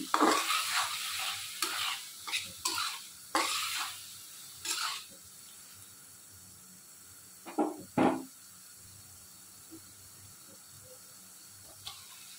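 Pasta sauce with chili flakes is stirred in a hot pan, giving a run of close scraping stirs over a soft sizzle. A few louder sizzling bursts follow before the sound settles into a quiet hiss.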